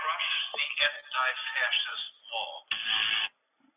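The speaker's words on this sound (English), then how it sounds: "That's my hopper ringtone." A phone ringtone made of a recorded spoken voice plays through a narrow, tinny phone-like band in several loud bursts, then stops.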